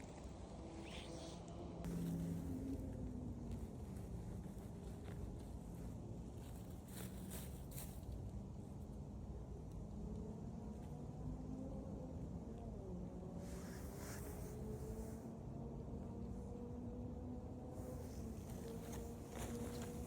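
Cars pass by on a road beside a forest early in the morning, carrying mushroom pickers; several approaches and passes rise and fade over a steady outdoor engine hum across the stretch, with no talk.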